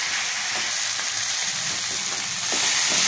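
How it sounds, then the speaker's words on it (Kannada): Bitter gourd and capsicum fry in a pan as chilli powder, garam masala and turmeric go in, giving a loud, dense, continuous sizzle close up. "ಈಗ ಅಚ್ಚಾರ್ ಪುಡಿ, ಗರಂ ಮಸಾಲ ಮತ್ತು ಅರಿಶಿನ ಇಷ್ಟನ್ನು ಹಾಕ್ತಾ ಇದ್ದೀನಿ."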